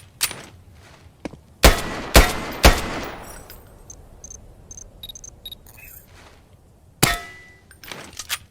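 Gunfire at a shooting range in the VR game ARES, with three sharp, loud shots in quick succession, then a later shot among metallic clangs and pings of bullets striking targets, with quiet gaps between.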